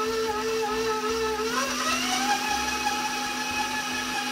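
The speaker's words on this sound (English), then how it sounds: "we're going to let them cream together." An electric mixer creams butter and sugar for Polish butter cookies, a steady close whir whose pitch shifts partway through, running alone and unbroken.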